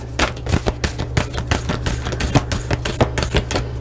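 Tarot cards shuffled by hand in a steady run of crisp, rapid riffling snaps and flutters, close and fairly loud, with no talk over them.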